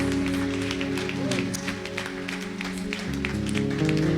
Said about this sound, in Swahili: Can we give Jesus a mighty hand clap?